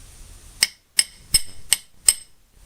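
A hammer taps a metal bench vise during a restoration, five crisp ringing metallic strikes at a steady, unhurried pace, close and clear, with near-silence between blows.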